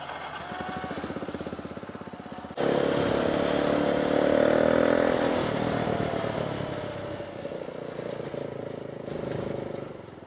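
A motorcycle rides through dense city traffic, its engine droning steadily and then rising louder as it picks up speed, with surrounding traffic noise and no talk.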